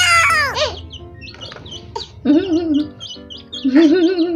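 Young chicks being fed rice peep and cheep loudly up close, with sharp high chirps and short trilling calls in quick bursts, with little pauses between.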